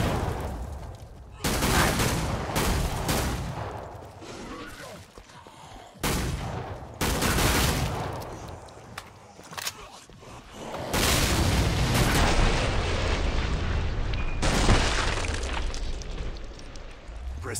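Rapid, loud bursts of sharpshooter gunfire in Killing Floor 2 on a hard Paris map, with dense repeated shots and booming impacts filling the stretch, a brief lull near the middle before the shooting resumes.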